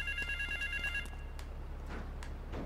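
Telephone ringing in Grand Theft Auto 3, a clear repeating electronic ring in short bursts over the first second, followed by faint ambient game noise.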